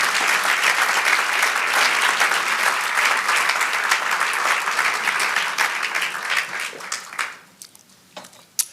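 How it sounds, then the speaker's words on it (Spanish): A church congregation applauds loudly and steadily in a dense wash of clapping that thins out and fades over the last second and a half, with a few scattered claps trailing at the end. "Darle un aplauso al Señor."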